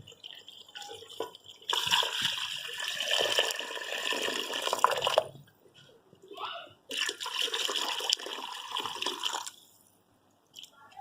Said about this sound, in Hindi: अब इसके अंदर हम शामिल करेंगे पानी।